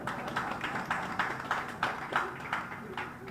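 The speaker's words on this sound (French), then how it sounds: "Donc applaudissez, s'il vous plaît." An audience at an airport customs building inauguration claps in a steady, rhythmic pattern of moderate loudness, no voices heard.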